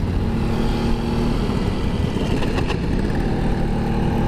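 An old Vespa VBB scooter engine runs steadily and close by, a loud continuous low rumble with an even idle-like pulse that holds throughout without pause.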